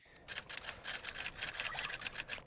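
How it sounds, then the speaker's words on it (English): Typewriter keys strike in a quick, steady run of crisp clacks, about a dozen close, evenly spaced hits over a quiet background. "I just added a little typewriter sound effect and a little wipe effect here"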